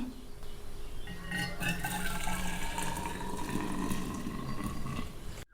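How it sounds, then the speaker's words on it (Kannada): Hot tea poured into a flask: a close, steady liquid stream whose gurgle climbs in pitch as the vessel fills, ending abruptly. "ಟೀ ರೆಡಿ ಆಯಿತು, ಫ್ಲಾಸ್ಕ್ ಹಾಕ್ತಾಯಿದ್ದೀನಿ"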